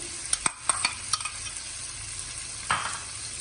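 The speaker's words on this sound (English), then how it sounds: "once the butter is melted, we are going to add the onions" Finely chopped onions, two medium ones, dropped into melted butter in a pan, a run of sharp clatters and pops at first, then a steady soft sizzle with another scrape later.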